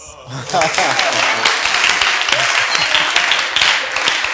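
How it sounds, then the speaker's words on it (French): Audience applause on a television talent show, dense sustained clapping from a crowd with voices talking over it throughout. "Applaudissements."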